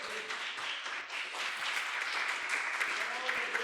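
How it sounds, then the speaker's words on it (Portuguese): A church congregation applauds in a steady wash of clapping that carries on throughout, moderately loud, with voices faintly mixed in beneath. "Se coloque de pé e vamos aplaudir o Senhor."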